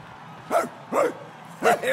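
A dog in Marvel's Guardians of the Galaxy video game lets out three short, separated barks, fairly close and clear, over a steady low game ambience.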